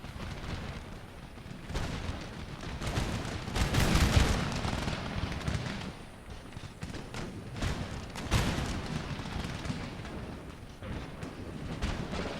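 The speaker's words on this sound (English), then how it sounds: "Give them a good solid volley." Musket volleys crash out in an Empire: Total War battlefield skirmish, a dense run of overlapping gunfire bursts and thumps rolling through most of the stretch, with heavier clustered volleys around the middle and later, loud and continuous.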